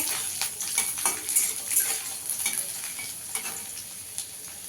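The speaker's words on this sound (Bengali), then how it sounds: "রসুনটাকে একটু লাল করে ভেজে নেব" Garlic sizzles steadily in oil in a pan while a utensil stirs and scrapes in frequent short strokes, close by, with no talking.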